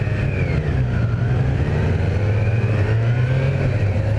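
A 2018 Kawasaki Z900 motorcycle engine pulls steadily on throttle, a continuous close, loud mid-pitched drone with a slowly rising and falling note while riding, no voices present.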